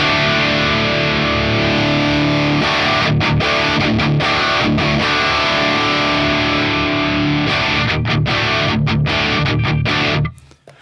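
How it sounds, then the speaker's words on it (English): Loud, saturated electric guitar roaring through an Orange OR30 single-channel amp with heavy power-amp distortion, chords sustained and chugging with gritty distortion for about ten seconds before cutting off. "how much power amp distortion we get"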